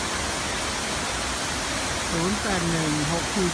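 A Thai waterfall pours as a constant, loud, broadband rush, with a voice speaking over it near the end.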